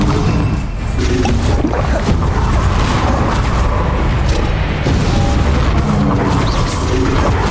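Bombarda spell blasts in Hogwarts Legacy during San Bakar's Trial combat, a dense, loud rumbling wash of booming explosions and crashing debris that stays heavy and continuous throughout, with no voices.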